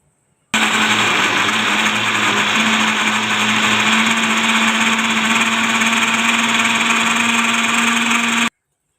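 A kitchen blender grinding raw mango and onion chutney with black salt, a loud steady motor whine that starts abruptly, holds constant for about eight seconds, then cuts off cleanly, with no talking.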